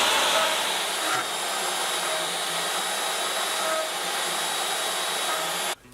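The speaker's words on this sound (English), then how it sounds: "set up the CNC and basically hit start and carve all my stars out" A CNC machine carves stars out of a workpiece, giving off a steady, loud, hissing whir like a spindle and router running without a break, then cutting off abruptly at the end.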